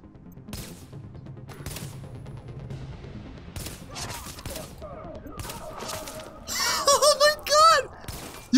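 Gunfire in The Division video game, scattered single shots early, then dense loud bursts near the end, with excited talk between them.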